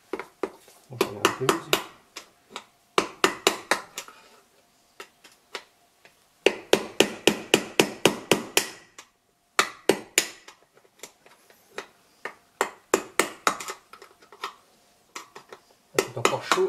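Repeated hammer blows on the rear left wheel bearing of a 2001 Ford Puma 1.7 with 125 hp, struck around the part in quick bursts of sharp metallic taps with short pauses between.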